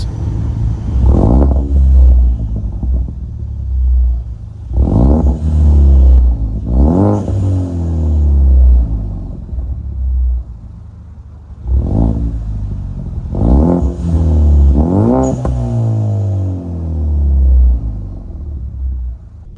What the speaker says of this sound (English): And here are some revs.